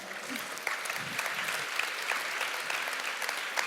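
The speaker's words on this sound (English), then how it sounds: "So give a big hand to Joanna." An audience at a women's conference session on mentoring gives a speaker a round of applause, with dense, sustained clapping that fills the whole clip at a fairly even level.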